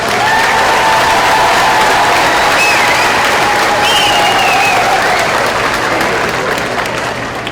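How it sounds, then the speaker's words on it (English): A large crowd applauds graduating students at the East High School 2016 graduation ceremony, dense continuous clapping that stays loud and even throughout, thinning slightly at the end. "Please give these students a round of applause at this time."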